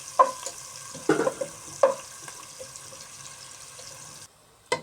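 Onions frying brown in a pan, a steady close sizzle with several sharp scraping stirs spread through it, going briefly quiet near the end before one last stir.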